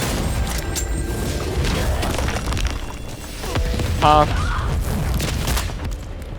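Airstrike explosion in a video game, booming blasts and rumbling impacts layered over game noise with a brief mechanical whine midway, while players talk over it.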